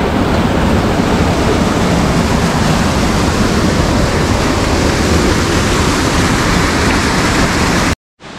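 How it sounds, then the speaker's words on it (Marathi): Small waterfall in a forest near Kshirdhara, Channat: loud, steady rushing roar of falling water close by, continuous until an abrupt cut near the end. "हा दुसरा छोटा धबधबा"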